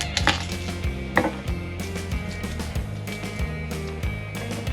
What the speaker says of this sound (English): So next you need to peel and chop the garlic.